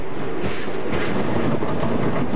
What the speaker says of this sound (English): Because the wheel bearings are stiff and need to be broken in, the first train runs are slow, but hopefully not too slow.